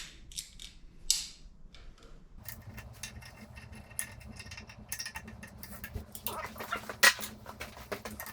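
Screw on a Norton 3DB fly press being wound back during restoration, with intermittent creaks, metallic clicks and scraping mechanism noises at close range in a quiet workshop.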